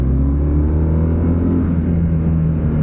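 A BMW R12 Nine-T motorcycle engine rumbles with a deep, steady, loud roar heard up close, its low throb rising slightly midway, with wind noise and no voices.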